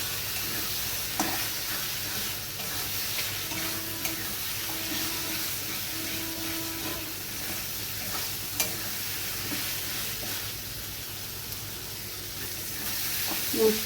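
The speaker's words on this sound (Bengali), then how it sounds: "এবার আমি মশলাটা ভালো করে কষিয়ে নেব।" Spice paste of turmeric, chilli and cumin powders frying and being stirred in a pan for a Bengali elephant-foot yam dish; steady close sizzle with scraping stirs and occasional utensil knocks, no talk.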